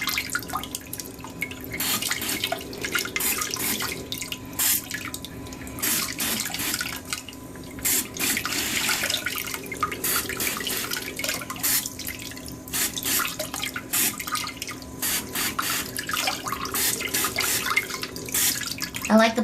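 A BumGenius cloth diaper sprayer shoots bursts of water into a toilet, pulsing in short hissing spurts with splashes and drips, close and moderately loud, with brief pauses between pulses and a faint voice in the background.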